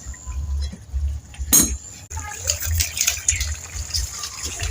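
A fish curry bubbles and simmers in a pan, a steady low burble with a brief clink of a utensil partway through.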